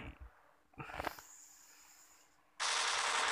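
Gunfire from the mobile shooter game Standoff, a short burst of shots around the one-second mark followed by a loud sustained noisy blast at the end, with no talk in between.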